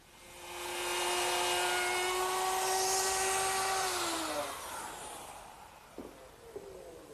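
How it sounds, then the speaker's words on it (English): A router fitted with a 1/2-inch spiral bit cuts a tenon on a kitchen work table rail, guided along a straight edge: a loud, steady high whine for about four seconds that drops in pitch as it spins down, followed by a few faint knocks. "I ride the router against the straight edge to cut the tenon in the right place"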